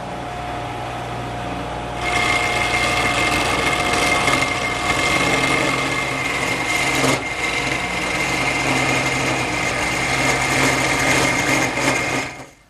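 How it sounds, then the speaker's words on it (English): Wood lathe turning a taper on a harvest table leg blank with a square carbide cutter, a steady whirring machine drone starting after a quiet moment and running continuously at close range, then stopping at the end. "I've now changed the triangular cutter to a square carbide cutter, and that'll make quick work of turning the taper"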